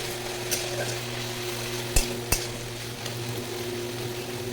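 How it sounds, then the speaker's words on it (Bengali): Onions frying in oil give a steady background sizzle, with a low hum running throughout and a few sharp utensil clicks against the pan. "পেঁয়াজটা ভালো করে একটু ভেজে নেবো"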